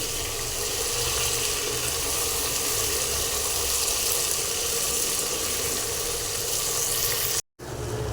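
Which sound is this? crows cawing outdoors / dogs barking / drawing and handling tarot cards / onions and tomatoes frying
onions and tomatoes frying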